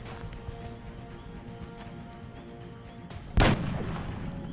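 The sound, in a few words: gunshot in XCOM: Long War video game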